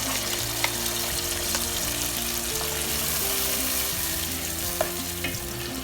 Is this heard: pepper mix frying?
yes